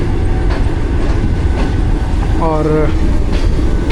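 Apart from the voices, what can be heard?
passenger train passing, overtaking sister train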